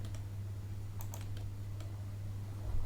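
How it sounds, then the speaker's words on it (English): Soft clicks of typing on a computer keyboard, several quick keystrokes in a short burst against a steady low hum, fairly quiet and close. "We'll type it here."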